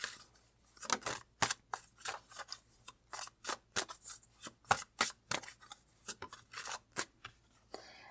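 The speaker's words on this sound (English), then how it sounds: "All right, so I'm going to pull out some more cards." Tarot cards are pulled from a deck and handled, making a rapid series of close, crisp snaps and shuffling flicks in short bursts with quiet gaps, and no speech.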